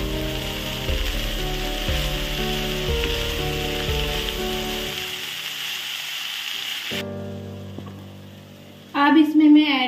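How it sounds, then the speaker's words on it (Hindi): Mixed vegetables with garlic gently stirred while frying in a pan, giving a steady hiss and soft rubbing scrapes under tonal background music that fades out midway, with a short voice-like burst near the end. "इसको मैं हल्के हाथों से मिक्स कर लूंगी ताकि सब्जियां सूख ना जाए।"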